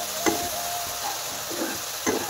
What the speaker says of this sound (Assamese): মছলাখিনি দি দিছোঁ। মছলাখন অকণমান ফ্ৰাই হৈ ল'লে